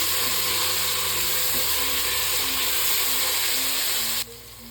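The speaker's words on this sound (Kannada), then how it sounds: "ಸ್ವಲ್ಪ ಪುದೀನ, ಗೋಡಂಬಿ, ಬಟಾಣಿ ಇದಿಷ್ಟು ಹಾಕ್ಕೊಂಡು ಒಂದು 2 ಸೆಕೆಂಡ್ ಫ್ರೈ ಮಾಡ್ಕೊಳ್ಳೋಣ" Onion, mint, cashews and peas fry in ghee for rice, giving a steady, close hiss of sizzling that cuts off abruptly near the end.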